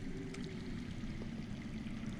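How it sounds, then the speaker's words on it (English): Running water flowing underground in the Game of Thrones Telltale video game, a continuous low, faint rushing stream with no voices over it. "I hear water. From underground."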